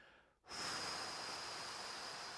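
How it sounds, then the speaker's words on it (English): A strong, forceful breath pushed out through the mouth during a corset-style core breathing exercise, a sustained rushing hiss that starts abruptly and holds steady and loud to the end, heard close up with no talking. "exhale really strongly out your mouth again"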